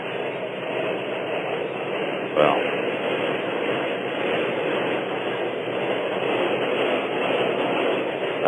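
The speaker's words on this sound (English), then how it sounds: "but I am because of the loud subway noise overhead" A loud subway train rumbles overhead in a continuous, muffled roar, heard over a narrow phone-like line while a voice speaks briefly above it.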